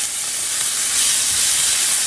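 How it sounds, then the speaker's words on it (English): Steady, crackling sizzle of stir-fry vegetables frying in hot oil, close and continuous with a bright hiss and no talking. "Hear that sizzle? That's what you want."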